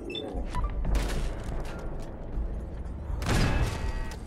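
Bursts of gunfire aimed at the player in the Fallout 4 game inside the Corvega assembly plant, a sharp volley at the start and another heavy burst near the end over a rumbling background.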